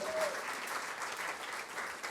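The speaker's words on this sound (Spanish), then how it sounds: "aplauda el poder de Dios" A church congregation claps in steady, continuous applause, a dense, even patter filling the room, with a brief voice rising over it at the start.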